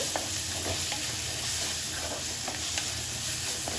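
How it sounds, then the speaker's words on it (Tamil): Onions sauté in oil in a pan for crab gravy, a steady close sizzle with light stirring taps scattered through it, no voices. "வெங்காயம் நல்லா வதங்கிட்டு இருக்கு"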